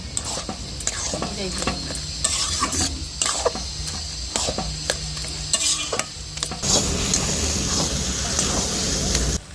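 Egg and eggplant are stirred around a hot pan, with a steady loud sizzle of frying and repeated scraping strokes of a utensil, and the sizzle swells louder toward the end.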